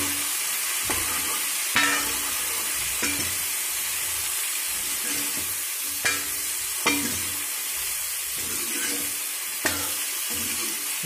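Turmeric powder is stirred into capsicum curry frying in a pan, giving a loud, continuous hiss of sizzling oil with periodic scraping strokes of a spatula every second or two and no voices.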